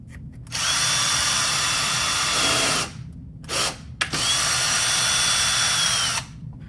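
A power driver runs screws into a door hinge in two long bursts, each a couple of seconds, with a short stutter between them and quiet gaps.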